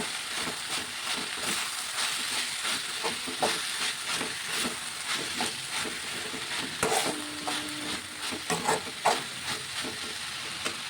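Tomato being stirred into an amaranth leaf curry in a pan, a steady frying hiss under intermittent close scraping and clinking strokes of a spoon, with no talk.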